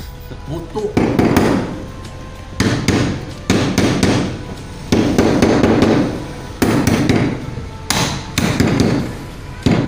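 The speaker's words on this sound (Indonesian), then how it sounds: "Berhubung tidak ada palu, ini terpaksa saya menggunakan mutu." Repeated heavy pounding with a wooden mutu pestle standing in for a hammer while a wayang golek craftsman renovates a mosque pulpit; loud, close thuds come in uneven bursts of several quick blows with short pauses between.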